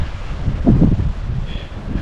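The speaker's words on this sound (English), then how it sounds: "it's quite windy today" Wind gusts against the microphone near a churchyard grave, a low rumbling buffet that swells and eases over a couple of seconds, close and alone.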